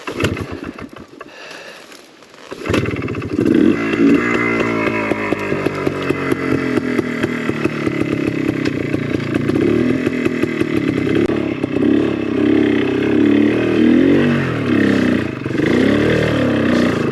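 Trials motorcycle engine revving hard as it is ridden off, loud and close, with rapid throttle blips and a sustained buzzing roar after a brief quieter start.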